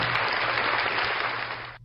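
A church congregation bursts into dense, steady applause that fills the room, then cuts off abruptly after under two seconds.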